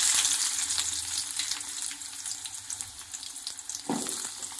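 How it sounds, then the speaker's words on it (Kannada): Onion fried in two spoons of oil in a dedicated pan for a chicken sambar: a steady, dense sizzle that is loud at first and eases slightly, with a brief stir or scrape near the end. "ಈರುಳ್ಳಿ, ಹಸಿಮೆಣಸಿನ್ಕಾಯಿ, ಟೊಮೊಟೊ ಎಲ್ಲ ಹಾಕ್ಕೊಂಡು ನೀಟಾಗಿ ಹುರ್ಕೋಬೇಕು"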